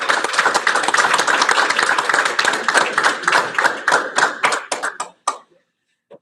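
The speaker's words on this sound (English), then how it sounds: "please join me in a round of applause to acknowledge all of our students' accomplishments" Audience applause at a construction graduation ceremony, sustained dense clapping that thins into scattered individual claps before stopping abruptly.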